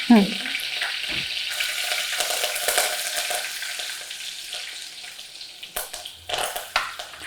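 Green chillies and curry leaves frying in hot oil, a steady close sizzle with brief stirring clatters and a few bursts near the end.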